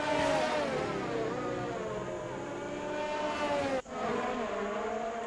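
A Racing Point F1 car with a Mercedes engine screams down a straight in a continuous loud, high engine whine whose pitch shifts slightly, with a brief dip near the end.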